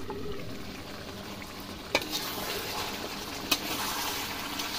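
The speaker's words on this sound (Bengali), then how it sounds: "এবং চুলার আঁচটা একটু কমিয়ে কষাবো।" Chicken curry sautéing in a pan on lowered heat, a soft steady sizzle and bubbling with two sharp utensil clicks against the pan, close and alone.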